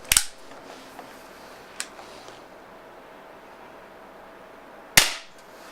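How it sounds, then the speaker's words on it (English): Two sharp shots from a Beeman P1 .22 caliber air pistol fired on low power, one at the start and another near the end, each a crisp pop with a short tail, plus a faint click in between over quiet room noise. "I'm still shooting in low power, and not to forget, this is the Beeman P1 in .22 caliber."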